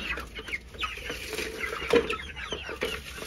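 Hens cluck and murmur in low, scattered bursts while eating, over soft rustling and shuffling, no one talking.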